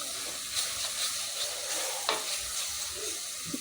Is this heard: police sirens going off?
no